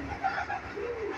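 A favourite pigeon, likely a Punjabi flying breed, gives soft low coos close by, a short murmuring call that rises and falls over steady background noise.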